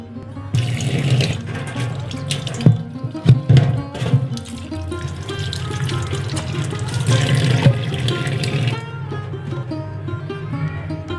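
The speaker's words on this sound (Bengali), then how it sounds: "এটাকে এইভাবে ভালো করে ঘষে পরিষ্কার করে নেবেন এবং জল দিয়ে ধুয়ে" Tap water runs steadily into a sink while an item is scrubbed and rinsed clean. The flow is loud, close and continuous, with splashes and knocks, then eases near the end.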